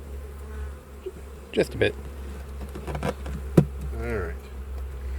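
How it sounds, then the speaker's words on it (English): Agitated honeybees trapped in a hive buzz with a steady, insistent drone, close by, with louder bursts of bees flying near the microphone and a brief spoken remark over the buzzing. "I can hear some of these bees over here getting angry, trying to get out."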